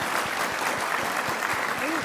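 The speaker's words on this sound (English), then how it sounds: "let's give them a clap for being such a" A studio audience breaks into dense, continuous applause, close and even, filling the whole moment with little else heard.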